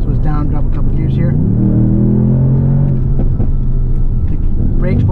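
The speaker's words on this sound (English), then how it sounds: "The brakes work very well, downshifting to help." A heavy Mercedes-AMG S63 Cabriolet brakes and drops a couple of gears, its engine rumbling loud and close with rev changes as each downshift bites, continuing steadily throughout.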